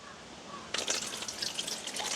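Water is poured into palmyra fruit pulp being kneaded by hand, beginning abruptly as a close, steady splashing trickle.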